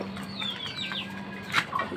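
Hens cluck softly in a backyard coop, a few quiet scattered clucks and chirpy calls with one sharper squawk near the end, set against a faint steady hum.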